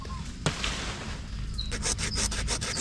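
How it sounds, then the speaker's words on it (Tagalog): A small, sharp hand saw cuts a bonsai branch with a few quick rasping strokes, close and fairly soft over faint background noise. "natilim ang aking lagari kahit napakaliit"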